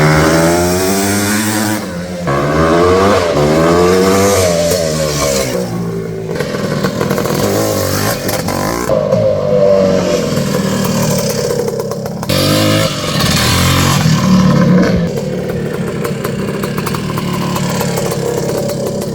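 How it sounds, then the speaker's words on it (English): A 1980 Kawasaki KX420 UNI-TRAK, an air-cooled big-bore two-stroke dirt bike, runs loud and close, its engine revving up and down in rising and falling sweeps with a steady, raspy idle between bursts, and no talking. "check out this classic air-cooled big bore two-stroke UNI-TRAK KX420"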